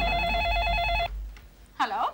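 An electronic telephone ring warbles loudly and close for about a second, then cuts off, followed by a brief pause and a voice speaking.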